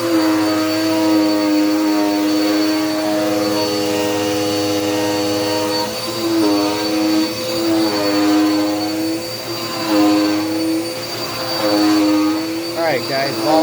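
Dirt Devil Power Max vacuum cleaner motor running loud and close, a continuous droning whine with steady tonal hum that wavers slightly in pitch, with some talk over it.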